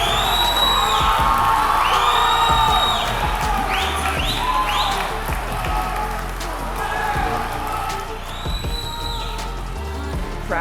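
A crowd at the IPF powerlifting world championships, 66kg class, cheers and whoops loudly and continuously while a voice talks over the roar.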